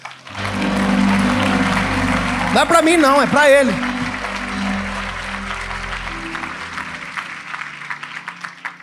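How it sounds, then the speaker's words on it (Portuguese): Church congregation applauding during a sermon, steady broadband clapping that fills the clip, with a preacher speaking loudly over it in the middle and the applause tapering toward the end. "Se é para aplaudir, aplaude, irmão."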